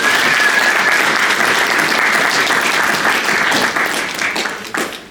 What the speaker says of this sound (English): So how about a round of applause for all these teachers?